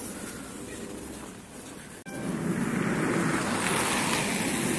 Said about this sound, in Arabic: طيارة فوق اهي، لان احنا قريبين من مطار فانوكوفا